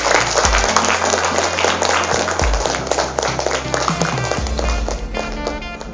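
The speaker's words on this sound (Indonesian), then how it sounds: "tepuk tangan untuk kita semuanya" Audience applause at a motivational seminar with Islamic boarding-school students: dense, sustained clapping from a large crowd that fills the whole stretch at a steady, loud level, with no break.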